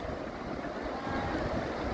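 Strong water rushes through a weir toward the sea in a broad continuous roar, steady and enveloping with wind noise buffeting the microphone throughout.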